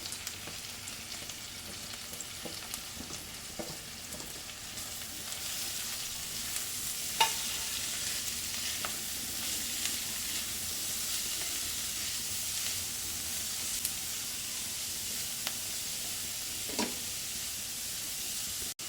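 Capsicum, carrot and cabbage stir-fry in a pan for veg macaroni pasta, producing a steady, loud sizzle with occasional soft stirring clicks and no talking.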